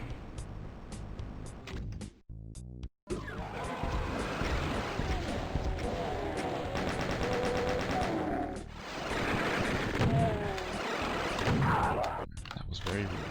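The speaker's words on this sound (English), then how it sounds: "a full blast of this is pretty close to a rocket's worth of damage" Super shotgun blasts and rapid weapon fire in DOOM 2, loud heavy bursts packed close together after a brief pause, with mechanical clatter and game noise throughout.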